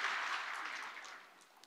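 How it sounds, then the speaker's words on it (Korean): Applause from a Sunday worship congregation in a Korean church, clapping in thanks, starting fairly full and fading steadily to a few scattered claps, somewhat quiet and distant. "박수로 한번 감사의 마음을 표하겠습니다"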